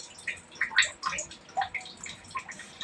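Water drips and splashes from a broken basin pipe in a short run of irregular, close drops and trickles, no talk.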